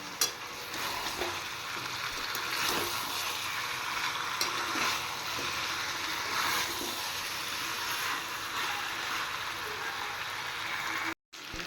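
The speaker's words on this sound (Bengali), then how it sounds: "এবার আলু আর টমেটো দিয়ে মাংসটা আর একটু কষাবো।" Chicken braising in a pan with potatoes and tomatoes, a soft continuous sizzle with occasional stirring scrapes and clinks, fairly quiet and close, with faint talk underneath.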